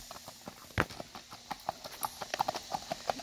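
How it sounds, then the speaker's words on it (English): A Tennessee Walking Horse moving in a four-beat gait, its hooves striking in a quick, even clip-clop rhythm at moderate distance, fairly faint with no talk. "Nice four beat gait."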